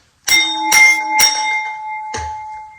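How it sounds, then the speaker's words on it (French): A notification bell sound effect: three bright, evenly spaced dings ring out close and clear, then a fourth strike follows after a pause. Each tone sustains and rings on between strikes. "Maintenant, là, nous, on va taper la cloche."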